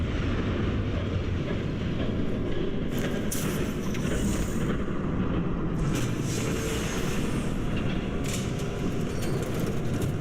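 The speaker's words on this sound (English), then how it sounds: "There's a train coming." Train approaching in the Batman: The Telltale Series game, a loud continuous rumble and rolling clatter that swells steadily, with scattered high metallic screeches and hisses over it and no speech.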